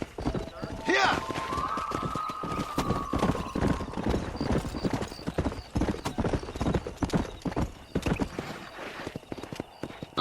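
A horse gallops in the Red Dead Redemption video game, its hooves clip-clopping in a steady, fast rhythm close up, with a brief whinny near the start and people talking over the hoofbeats.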